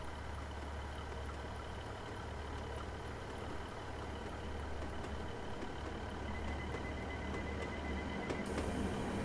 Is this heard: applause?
no